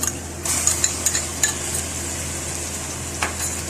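A garlic and ginger paste sizzles and spatters in a hot pan while a utensil stirs and scrapes intermittently, close up.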